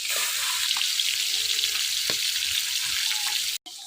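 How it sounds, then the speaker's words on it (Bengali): Pieces of snakehead fish for a Bengali curry hiss loudly in hot oil, a steady, close, dense sizzle that carries through most of the clip and cuts out briefly near the end. "তেল গরম হয়ে গেছে, মাছ দিয়ে দিলাম।"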